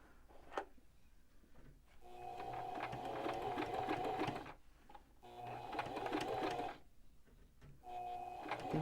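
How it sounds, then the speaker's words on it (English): A sewing machine stitches a fabric face mask in three whirring bursts of rapid, mechanical needle chatter, each lasting a couple of seconds with brief quiet pauses between them, recorded close and fairly soft. "Go ahead and sew around."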